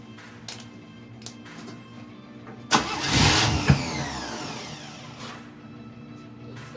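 A 1979 Chevy Nova with a freshly rebuilt carburetor cranks and catches, a loud burst of engine noise swelling for about a second with a sharp backfire pop in the middle, then settling to a quieter rough idle.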